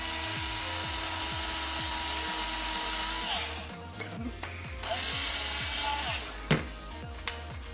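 A drill bores through a quadcopter's center plate and a nylon piece, a ratcheting, rhythmic grind of repeated pulses for about three seconds, then scattered quieter clicks and handling noises.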